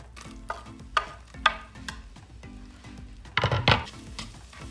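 Garlic sizzles in butter in a pan, a close crackling fry with several sharp spitting bursts and small scraping stirs, no voices.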